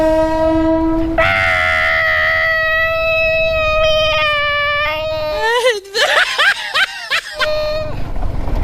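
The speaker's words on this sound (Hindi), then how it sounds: "ये देखो ट्रेन जा रहा है।" A train passing by outdoors, with a loud sustained horn blast and rumbling rail noise close by, while people talk and shout over it.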